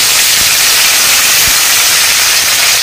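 Garlic, green chillies and curry leaves sizzle in hot oil while a village tomato and potato dish is cooked, giving a loud, steady, close hiss with no talk.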